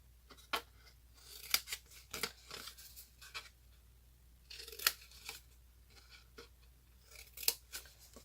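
Scissors snip through the paper corners of a Halloween treat box, producing quiet, close, irregular crisp cuts spaced by soft rustling and pauses.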